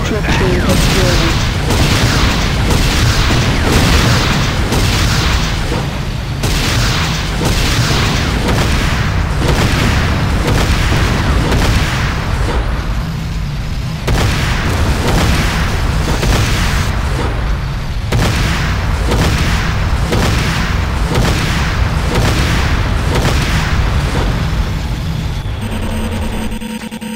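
Building explosions and weapons fire in Command & Conquer Renegade as a GDI weapons factory is destroyed, a long barrage of loud repeated booms and bursts, dense and continuous, with voices heard in between.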